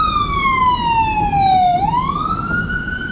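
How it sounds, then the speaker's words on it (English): A loud, close ambulance siren wails on a Vancouver street, its pitch sliding down and then sweeping back up, over low traffic rumble. "It's the fucking second ambulance I've seen."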